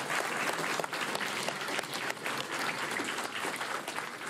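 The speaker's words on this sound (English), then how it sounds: "I think it's time for clapping for you because it was mostly informative" A summit audience claps for the presenters of a character modeling session, a steady, full wash of applause lasting the whole stretch at moderate distance.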